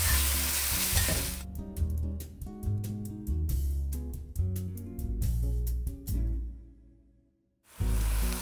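Meat fries in a Dutch oven for chili, a steady sizzle with stirring clatter and scraping throughout, fairly close, dropping out briefly near the end before resuming.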